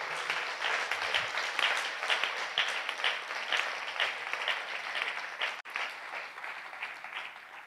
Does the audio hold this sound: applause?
yes